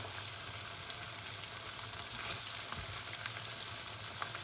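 Pork belly with fish sauce fries in hot oil, a steady dense crackling sizzle that runs on without a break, close and even, with no talking.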